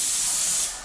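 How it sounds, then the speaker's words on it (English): A paint spray gun sprays primer or gloss onto a wooden staircase, a close, steady airy hiss that holds briefly and then trails off. "you're going to have to start spraying slightly different"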